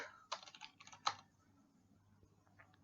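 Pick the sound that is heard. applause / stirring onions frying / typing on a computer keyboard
typing on a computer keyboard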